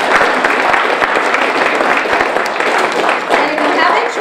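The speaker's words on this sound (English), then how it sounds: "I need everyone to give a big round of applause to Sodexo" A crowd at a campus community meal event gives a round of applause, with sharp individual claps standing out from the continuous patter, which stays steady and fairly close throughout.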